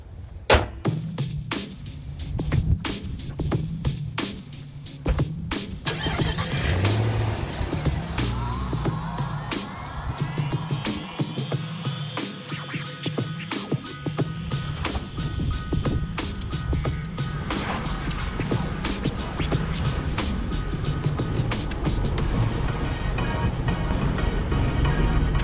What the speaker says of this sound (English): we are driving